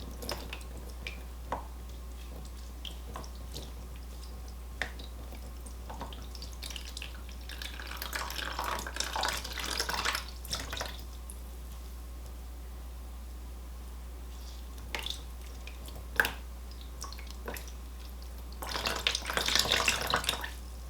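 Water trickles and drips intermittently from squeezed, lemon-juice-dyed yarn over a low steady hum, with a couple of louder splashing stretches.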